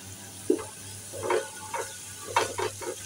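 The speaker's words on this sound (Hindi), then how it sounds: "प्याज फ्राई हो चुके हैं, अब मैं इसमें लाल मिर्च शामिल करूंगी।" Chopped onions fry in a pan as red chili is added, giving a soft steady sizzle under several distinct stirring scrapes and clinks of a spoon, close and fairly quiet, with no talk.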